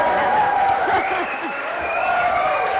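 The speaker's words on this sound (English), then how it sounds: "Let's give a big round of applause for Joseph McCarthy" Audience applause for a speaker at a Startup Grind event, a short burst of clapping and cheering with a brief whoop, fairly loud and close.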